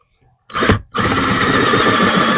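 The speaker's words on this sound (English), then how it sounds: "So the battery is dying on my drill." A first-generation Black & Decker cordless drill with a dying battery whirs on loud and close, cuts out briefly, then restarts and holds a steady, strained drone.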